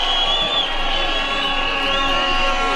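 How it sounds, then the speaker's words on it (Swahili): Crowd at an outdoor ceremony in Nakuru, Kenya, applauding and cheering as the president hands the national flag to a governor; a dense, steady wash of clapping and voices with whistles and whoops throughout. "Tupige makofi tafadhali"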